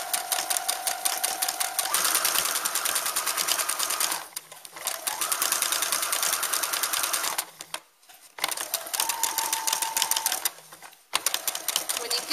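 Sewing machine stitching down the ears and arms of a fabric lamb toy, a loud, steady whirring hum of rapid needle strokes in long runs, with brief pauses as the fabric is turned.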